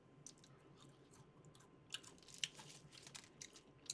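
Quiet, close-up chewing of crispy fried onion rings from McDonald's, with light crackling crunches that get sharper and more frequent toward the end.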